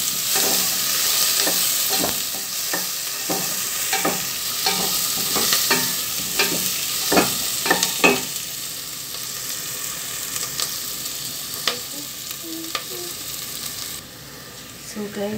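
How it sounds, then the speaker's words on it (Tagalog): Garlic sizzles steadily in a hot pan while a utensil scrapes and clicks against it in irregular strokes, close and fairly loud, with the frying settling down near the end. "nasolob na ang ating bawang."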